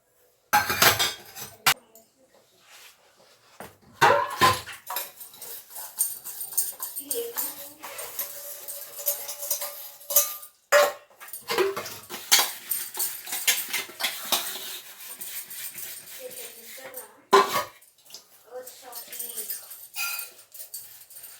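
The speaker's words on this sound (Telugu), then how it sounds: "గిన్నెలు అయితే ఉన్నాయండి ఒక టీ రైన గ్లాసులు పిల్లల బాక్సులు అవన్నీ అయితే తోమేస్తున్నాను" Dishes, tea glasses and children's lunch boxes clink and clatter as they are scrubbed, in sharp scattered knocks, with a dog whimpering and a person talking in between.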